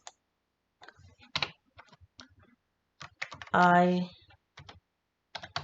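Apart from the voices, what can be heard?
typing on a computer keyboard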